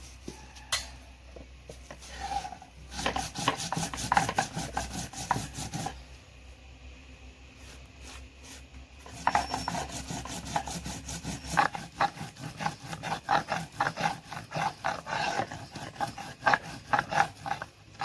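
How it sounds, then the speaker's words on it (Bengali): Cumin seeds ground by hand on a grinding stone, with continuous rhythmic back-and-forth scraping strokes, close and steady, with no voices. "আমি শুধু জিরে বেটে নেব এখন"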